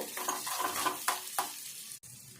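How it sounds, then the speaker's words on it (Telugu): Peanuts with salt and turmeric frying in a pan, a soft sizzle broken by several scraping stirs of a spoon, close and fairly quiet, ending with a sharp clink. "కొంచెం పసుపు వేసుకొని ఇవి మంచిగా వేగాలి."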